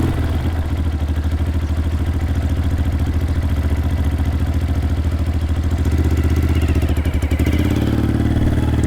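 A dirt bike engine runs steadily under light throttle while a beginner rider learns, a continuous close chugging drone that rises slightly in pitch and loudness toward the end, with no talking.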